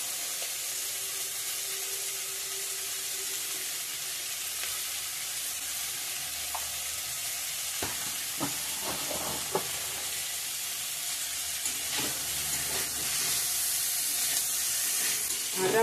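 Cauliflower frying in oil with chili powder gives a soft, steady sizzle, broken midway by a few sharp utensil clinks and stirring sounds, with no speech.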